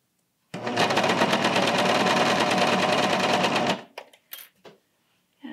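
A serger runs fast and loud for about three seconds, sewing a sleeve into T-shirt fabric with a dense, even mechanical whir, then stops, followed by a few soft fabric handling rustles.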